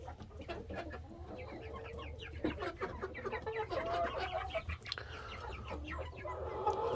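Chickens cluck steadily inside a coop holding about fifty-five birds, a busy overlapping chorus of near and mid-distance calls with occasional louder squawks over a low constant hum.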